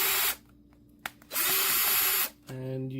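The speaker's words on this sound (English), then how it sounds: "these controllers have 5 screws, so we'll unscrew them" A power screwdriver whirring in two short bursts while removing the screws from a game controller, loud and close, with a faint click between bursts and a brief low hum at the end.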